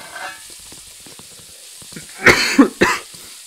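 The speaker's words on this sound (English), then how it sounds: "I know my coughs are quite annoying" A person sick with a cold coughs a few times in quick succession, three loud, close bursts near the end after a quiet stretch with faint background clicks.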